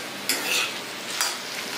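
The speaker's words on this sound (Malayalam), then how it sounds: "ഇട്ടിട്ട് ഒന്ന് ഇളക്കുക, ഇളക്കിയിട്ട് അടച്ച് വെച്ച് ഒന്ന് ചെറുതായിട്ട് വേവിച്ചെടുക്കുക" A tomato and onion mixture being stirred in a cooking pan, a soft steady sizzle with a couple of brief scraping strokes, close and fairly quiet with no voices.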